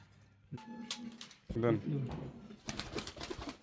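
Fancy pigeons cooing at a pigeon farm, with soft throaty coos rising mid-clip, close by, and people talking over the birds.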